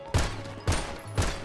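Three evenly spaced gunshots from GTA 5, each a sharp thud about half a second apart, moderately loud with a short decay.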